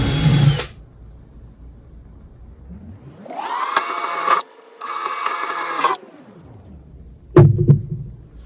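A power drill bores a pilot hole for a door latch joint, two sustained whirring runs of about a second each with a brief pause between, framed by shorter mechanical bursts at the start and end.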